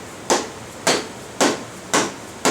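Hammer strikes driving the rear wheel axle through on a Harley-Davidson motorcycle, five sharp, evenly spaced metallic taps about half a second apart, close and fairly loud with no talking.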